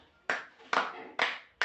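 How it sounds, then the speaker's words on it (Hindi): A class claps for a student, with three or four sharp, separate bursts of hand claps spaced roughly half a second apart, fairly close and moderately loud, with no speech over them. "फिर ताली बजाओ इस बच्चे के लिए।"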